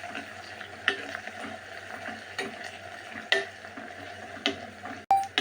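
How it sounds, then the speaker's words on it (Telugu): Curry leaves and green chilli pieces frying in a pan for a tamarind taro curry, a soft steady sizzle with a few light stirring scrapes and a sharp clink near the end, no voices. "కొంచెం కరివేపాకు, ఒక 2 పచ్చిమిరపకాయ ముక్కలు వేసుకొని బాగా ఫ్రై చేసుకోవాలి."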